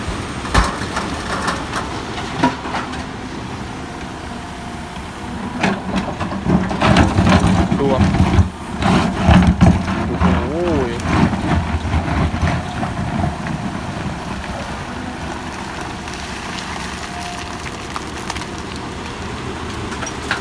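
A CAT 320D2 excavator works through hard ground, giving a steady low engine rumble with crunching, scraping bursts of bucket and rock that swell louder midway, with some wind noise and voices talking over parts of it.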